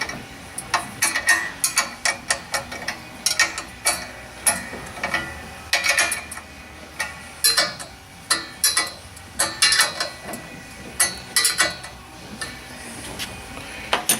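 Locking nuts being tightened on a WorkHorse sprayer boom: close, irregular metallic clicking and ratcheting in short repeated bursts, steady throughout with no talking.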